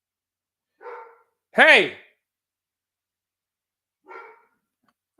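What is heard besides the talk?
dog barking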